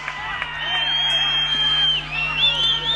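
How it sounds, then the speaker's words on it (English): A crowd at a local senior football match cheers and whoops, heard under a commentator's steady talk with a whistle-like tone sounding through. "listen to the crowd"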